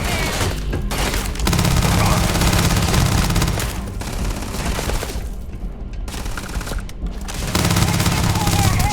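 Gunfire in the video game Starfield: dense, loud bursts of automatic fire and booms that stop briefly a few times, with voices mixed in.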